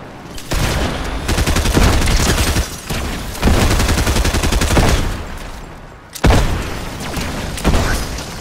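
Automatic gunfire in Fortnite aimed at a swimming player, long loud sustained bursts broken by brief pauses, close and dominant, with a heavier impact near the end.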